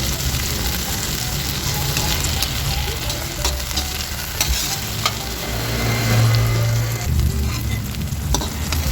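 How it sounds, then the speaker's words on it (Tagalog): Eggplant slices fry in a pan for a home dinner, giving a steady, close sizzling hiss with occasional crackles and pops throughout, no talking over it. "piprito tayo ng talong para sa aming hapunan"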